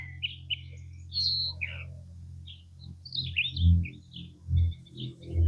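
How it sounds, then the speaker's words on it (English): A mockingbird sings in a garden in early May, giving scattered bright chirps and short phrases at moderate distance, with low rumbling thumps and background noise underneath. "What is that bird? That's the mockingbird."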